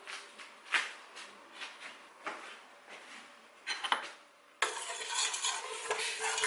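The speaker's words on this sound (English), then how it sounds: "you just want to keep stirring this until all of the sugar is dissolved" Strawberry syrup with sugar is stirred in a pan by hand with a utensil, giving soft, repeated scraping strokes and light clinks, then a steadier simmering hiss toward the end.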